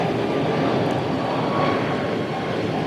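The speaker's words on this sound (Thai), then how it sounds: "แล้วมีเครื่องบินเสียงดังทำให้เราพูดธรรมะกันไม่ได้" A loud airplane roars overhead, a broad, steady wash of engine noise that swells slightly and fills the whole stretch without any speech.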